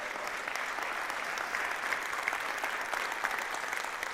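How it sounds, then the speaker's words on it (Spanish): Church congregation applauding steadily, a dense even clatter of many hands filling the room throughout, with faint murmurs of voices underneath. "¿Cuánto le pueden dar fuerte aplauso al Señor?"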